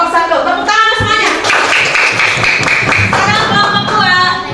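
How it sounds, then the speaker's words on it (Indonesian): A classroom of children claps together for a group of classmates during a coding lesson, a dense, sustained burst of applause with children's voices mixed in throughout. "Kelompok 1. Tepuk tangan semuanya."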